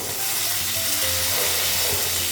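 Onion and potato fry in a pan with a dense, steady sizzle that continues evenly throughout.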